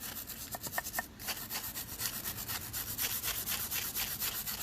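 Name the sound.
wire brush scrubbing a Ford Focus rear brake rotor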